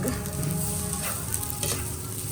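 Sinangag, Filipino garlic fried rice, sizzles and crackles steadily in a pan while being stirred, a close, continuous frying hiss with no talking.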